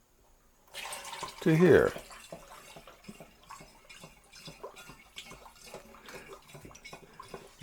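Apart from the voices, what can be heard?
ginger wine liquid gurgling while being transferred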